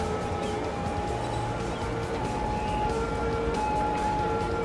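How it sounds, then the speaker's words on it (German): In the city-building game Cities: Skylines, an ambulance siren wails as a faint, sustained tone under a busy hum of traffic and city ambience. "Ein Krankenwagen fährt weg und der nächste kommt."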